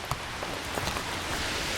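Rain falls steadily during a home inspection, a dense even hiss with scattered drop taps, close and fairly loud, with no talk.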